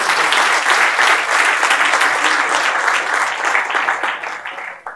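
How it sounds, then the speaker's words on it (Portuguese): A church congregation breaks into strong, dense applause that holds steady and full for several seconds, then tapers off toward the end. "dê um aplauso forte para o Senhor"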